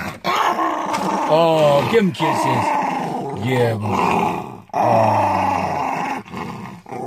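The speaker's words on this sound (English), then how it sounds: "That's the mean dog." An aggressive dog growls in low, rumbling bursts with a few yips between them, close by, while people talk and coo over it throughout.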